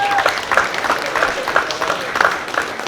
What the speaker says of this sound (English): Let's give yourself a round of applause for that.